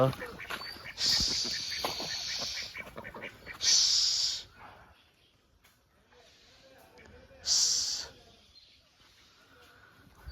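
Village ducks quack in a rural farmyard, with loud, hoarse bursts of calling near the start, around four seconds and near eight seconds, separated by quieter stretches of outdoor background.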